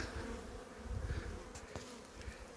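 Honeybees in flight at a wooden hive on a winter cleansing day make a steady, dense buzzing hum close by, with individual bees droning past the microphone.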